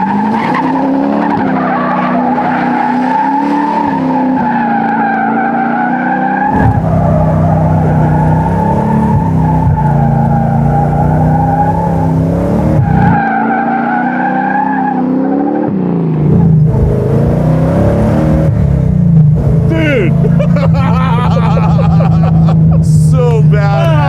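A car launches and spins donuts, its engine revving hard as the tires squeal and skid in long wavering screeches, loud and close, with people talking over it.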